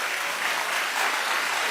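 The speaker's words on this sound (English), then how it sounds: "women are over here cheering" Brief burst of studio audience applause and cheering from a crowd of women, dense and steady throughout, fairly loud and with no talk over it.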